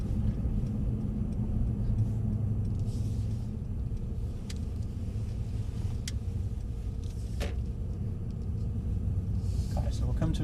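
A Mercedes C63 AMG pulls away hard from a standstill on a three-lane braking and slalom course, its engine a steady low rumble under constant wind and cabin noise, with a few sharp clicks scattered through.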